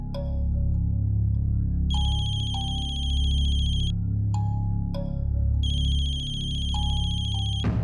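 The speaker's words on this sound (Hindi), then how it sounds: "फोन की आवाज तो यही कहीं से आ रही है" A mobile phone ringtone plays in repeated electronic bursts with short gaps, loud and close, in a scene from a horror TV serial.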